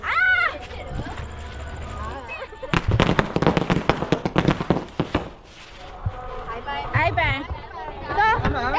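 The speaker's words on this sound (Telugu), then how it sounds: "guys RCB ఓడిపోయినందుకు crackers కాలుస్తున్నాం" Firecrackers set off at a village fair, a rapid run of sharp close bangs and crackles in the middle, with crowd chatter and people talking before and after.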